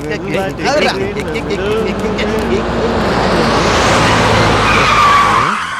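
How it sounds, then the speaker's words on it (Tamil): A vehicle closes in with a rising engine roar and tyre skid, building steadily louder over several seconds, mixed with raised voices and background music before cutting off abruptly near the end. "ஏதோ வண்டி வருதுடா"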